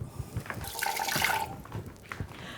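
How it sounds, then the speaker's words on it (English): Peeled boiled eggs get a rinse under running water in a kitchen, splashing and trickling close by in uneven bursts that swell in the middle and then fade. "Make sure you give it one more rinse."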